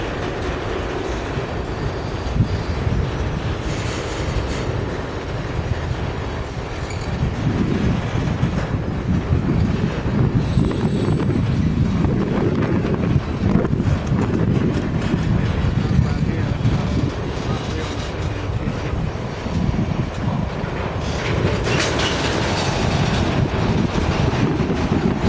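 A Norfolk Southern freight train rumbles and clanks steadily across a trestle, a heavy continuous roar with wind buffeting the microphone and people talking nearby.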